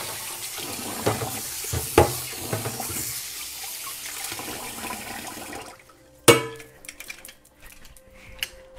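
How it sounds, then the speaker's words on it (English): A utensil that touched raw shrimp is rinsed under a running kitchen faucet while ceviche is being made, with a steady rush of water. Brief clinks and splashes sound near the tap, then the flow cuts off and a sharp clunk follows. "now I have to wash this because it touched the shrimp"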